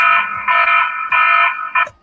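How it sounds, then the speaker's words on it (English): An alarm blares in loud repeated electronic beeps, four bursts in a steady pattern with short gaps, close and alone. "then the alarm went off"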